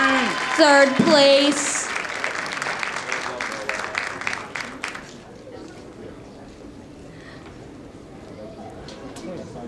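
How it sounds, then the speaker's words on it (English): Lively audience clapping and cheering at a high school cosmetology fashion show, loud at first with a voice speaking and whoops over it, then tapering to scattered claps and quieter room noise. "Let's give them a round of applause."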